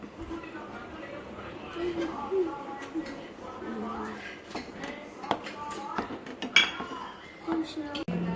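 A thickening vanilla ice cream mixture stirred continuously in a pot, with a spoon scraping and clinking against the metal in irregular strokes while a voice talks over it.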